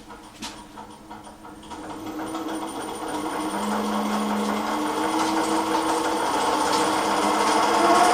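The motor of an EMCO lathe whirs into motion and steadily gains speed, its hum rising and growing louder over several seconds, with no talking.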